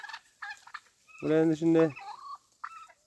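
Turkeys kept for wholesale sale give a loud, close gobbling burst of rapid rattling calls, bracketed by brief talk in the pen.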